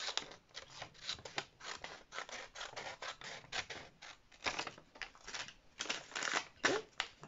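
Scissors snip through jersey knit fabric in a rapid run of short crisp cuts, close and fairly quiet, with a brief pause midway before the cutting resumes.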